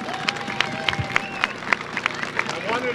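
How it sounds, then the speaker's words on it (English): A school audience at a community event gives a round of applause for student scholars, with scattered claps under crowd noise and voices. "If we can first give a round of applause to all of the Scholar of the Years."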